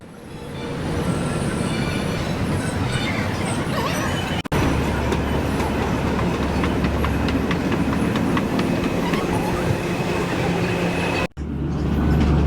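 A Delhi metro train rumbles and clatters steadily along the rails, wheels droning loudly, with a couple of brief dropouts in the noise.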